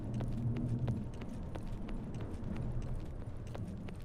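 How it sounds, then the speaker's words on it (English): Footsteps on asphalt in a retro-inspired indie horror video game, a run of soft, evenly spaced steps over a low rumbling ambience, fairly faint and with no talking. "Can everybody hear the feet, the footsteps?"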